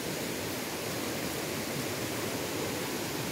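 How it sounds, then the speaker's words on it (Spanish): Stream water flowing steadily near a bridge in a Guatemalan countryside spot, a constant broadband rush with no breaks, close and fairly loud throughout. "Se escucha el agua."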